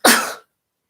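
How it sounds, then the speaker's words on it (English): A single short, sharp burst of a sneeze from a person, close and fairly loud, over in well under half a second, then silence. "I'm going to start sneezing now."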